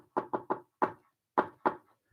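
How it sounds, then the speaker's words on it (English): A familiar door-knock rhythm rapped out as six sharp knocks: three quick, a pause, one knock, a longer gap, then two more, close and clear with nothing else in the background. "that we wanted to write down that familiar door knock"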